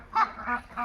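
Large domestic ducks give three short, nasal honking calls in quick succession, close by and fairly quiet.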